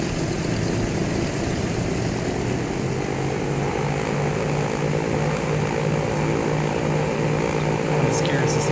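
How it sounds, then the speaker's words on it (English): A propeller airplane in the video game Transport Fever 2 takes off, giving a steady, loud engine drone with a low hum that runs through the whole stretch, and a few brief higher tones are heard near the end. "We're going for takeoff now."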